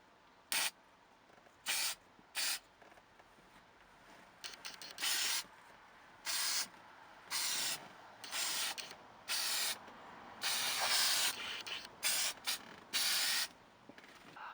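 Headliner adhesive sprayed from an aerosol can during a sagging headliner repair on a Dodge Ram 1500: a series of short, sharp hissing bursts, a dozen or so, some longer than others, close by with faint handling noise between.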